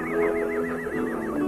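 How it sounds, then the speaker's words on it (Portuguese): A horse in a Western film gives a single loud, warbling whinny, close by, running for over a second with a wavering, trembling pitch. "Isso que é cavalo. Um belo animal."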